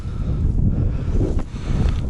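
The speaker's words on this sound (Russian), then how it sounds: "Сегодня ветер еще сильнее. Холодный ветер." Strong cold wind gusts across a frozen lake at first ice, roaring as a dense low rumble that buffets the microphone continuously throughout, with no voices.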